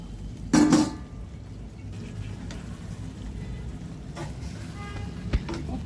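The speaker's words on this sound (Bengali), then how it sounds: "একটু নেড়ে চেড়ে মশলাগুলো মিশিয়ে নেব।" Beef and spices are stirred in a cooking pot. A loud clatter of a utensil against the pot opens it, followed by quieter scraping and occasional clinks over a low simmering background.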